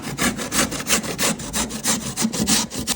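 A block of jaggery is grated by hand for steamed bhapa pitha, giving close, loud, rhythmic rasping strokes that repeat quickly and evenly, about four or five per second, with no talking.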